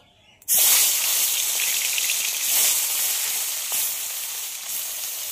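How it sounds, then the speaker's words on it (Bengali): Foli fish coated in salt and turmeric drops into hot mustard oil in a wok and erupts into a loud, sudden sizzle that keeps crackling steadily, with no voices. "এবার নুন হলুদ মাখিয়ে রাখা মাছটা দিয়ে দেব ভাজার জন্য।"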